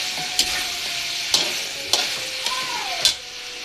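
Meat sautéing in a hot pan, a steady frying sizzle broken by several sharp clinks of a utensil stirring and scraping, close and loud with no talking.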